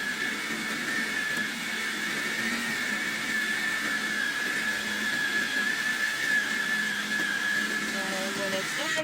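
Kitchen food processor spinning and chopping homemade dog food, a continuous close whirring motor hum with a high steady whine that holds for the whole stretch.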